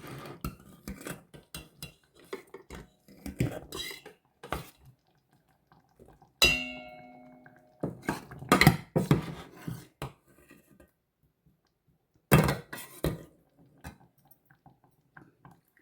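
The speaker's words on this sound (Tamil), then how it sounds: "கொஞ்சம் கிழங்கு எடுத்து நாங்கள் இப்போ மசிக்கணும்" A utensil mashing boiled rasavalli yam in a metal pot, making repeated scraping and clanking strikes in uneven bursts, close and fairly loud, with brief pauses between and one ringing clang partway through.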